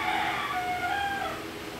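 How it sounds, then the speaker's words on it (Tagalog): A rooster crows once, a drawn-out call with rising and falling tones over steady background noise, moderately distant. "nagtilaok na yung ating mga manok"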